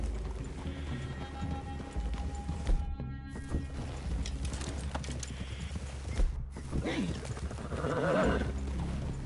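Horses walk and clip-clop in the video game Red Dead Redemption 2, with steady hoof taps, an occasional neigh and soft rain-like ambience, while voices talk over it.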